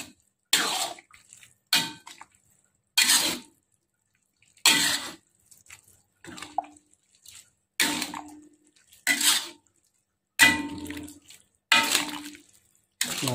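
Repeated scraping and clattering strokes in a steady rhythm as cassava leaf curry is stirred in a pot, each burst about a second long with short pauses between, close and fairly loud.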